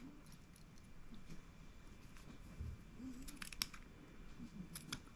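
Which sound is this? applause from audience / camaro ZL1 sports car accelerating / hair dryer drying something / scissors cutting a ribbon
scissors cutting a ribbon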